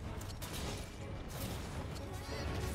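Gunfire and monster combat against the Golden Rathian in Monster Hunter World Iceborne, a dense, steady wash of shots, impacts and roaring game effects at even loudness throughout.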